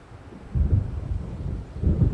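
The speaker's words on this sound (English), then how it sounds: "It seems there's a storm coming." Low rumbling thunder from an approaching storm in the video game Alan Wake, two swelling rolls with a steady gusty background between them and no voices.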